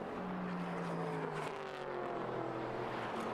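A Corvette GT3 race car in the Japan Cup at Suzuka gives a steady, distant engine rumble with a droning tone that shifts slightly in pitch, under a constant wash of background noise.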